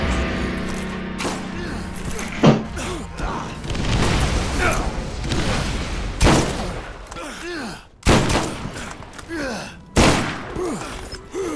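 Gunfire in Borderlands during a co-op duel: repeated loud shots and thumps come in uneven bursts, with several sharp blasts spaced out and players talking throughout.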